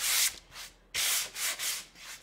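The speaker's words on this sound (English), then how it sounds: "I'll go to the back side of this and just give it a slight sand" The back of a round wooden Christmas door hanger is lightly sanded by hand in about five short, close rubbing strokes, each a soft rasp with brief pauses between.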